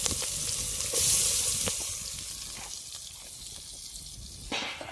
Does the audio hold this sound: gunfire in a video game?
no